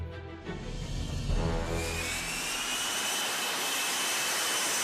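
An F-35B's jet engine roars with steady, loud thrust, a broad rushing blast that swells in the first two seconds and then holds a continuous high whine with no voices over it.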